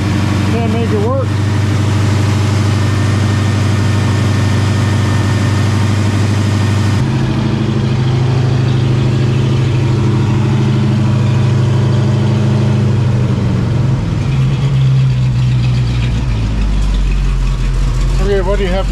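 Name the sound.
AMC Hornet engine idling at 500 RPM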